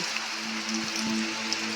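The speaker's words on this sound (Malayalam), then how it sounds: "ഞങ്ങൾ ഇറങ്ങാൻ നോക്കുമ്പോൾ ഇവിടെ പൊരിഞ്ഞ മഴ" Heavy rain pours down in a steady, dense hiss, close and continuous, with a faint tonal hum in the background and no voices.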